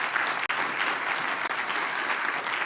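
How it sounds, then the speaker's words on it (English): Audience applause at a Davos climate panel fills the moment: a dense, steady wash of many hands clapping together from a large crowd at moderate volume, with no talk over it. "Please join me in a big round of applause for a very inspiring panel."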